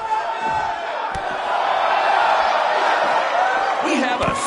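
A sold-out arena crowd roars in the wrestling video game WWE 2K19, a dense, loud wash of cheering and whooping that swells midway, with an announcer's voice speaking over it and a few sharp thuds.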